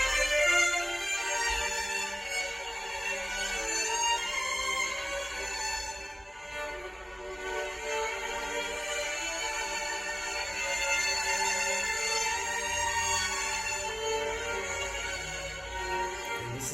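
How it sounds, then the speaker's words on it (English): An orchestral string section plays a passage from a William Grant Still composition, with dense, sustained, lush harmonies that stay steady and moderately quiet throughout, heard alone without talk. "And then the strings take over."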